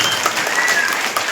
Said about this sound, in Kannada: ಇನ್ನೊಂದ್ಸಾರಿ ಚಪ್ಪಾಳೆ ಕಟ್ಟಿ